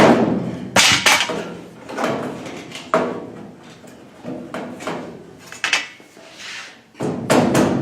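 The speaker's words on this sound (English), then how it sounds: "So I'm going to give this a little tap there." Window conversion panel on a Volkswagen bus, a Grumpy's Metal 21-window kit, being tapped into place, with a series of sharp knocks and metallic thumps spaced irregularly, close and fairly loud.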